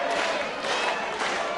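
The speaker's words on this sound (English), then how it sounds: "A slow hand clap for a very slow starting Haystack" Wrestling crowd at a match featuring Giant Haystacks, a dense broadband roar of hand claps and voices in an arena, steady and loud throughout with no clear slow rhythm standing out.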